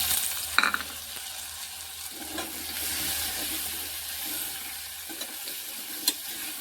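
Potato pieces sizzle in hot oil in a pan, a steady soft frying hiss with occasional clicks and scrapes of stirring, close and alone.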